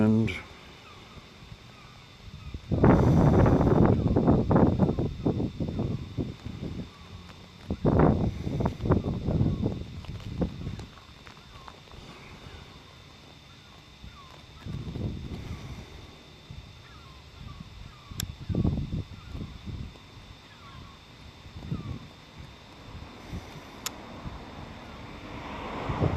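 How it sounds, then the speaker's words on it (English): Wind buffeting a microphone outdoors during the demolition of Jade Stadium (Lancaster Park), loud gusty bursts that come and go, strongest near the start, with a person speaking at times. "Ooh, getting battered a bit by the wind."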